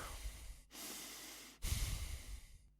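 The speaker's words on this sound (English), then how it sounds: "Breathing is like this." A person demonstrates breathing with two close, audible breaths: a hissing inhale, a brief pause, then a stronger, snorting exhale, with no talk.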